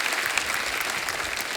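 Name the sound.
studio audience applause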